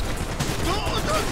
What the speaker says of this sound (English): Shots coming from across the street.